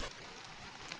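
Rain beginning to fall on a campsite tarp, a steady soft patter of drops spread across the whole moment with no talk.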